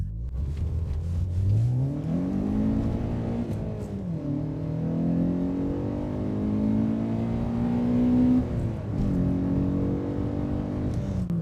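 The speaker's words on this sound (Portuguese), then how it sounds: "Agora vamos passar pelas marchas mais uma vez." A Citroën Saxo VTS engine revs hard through the gears, each pull rising in pitch before dropping at the shift, with several clear gear changes at close, steady loudness.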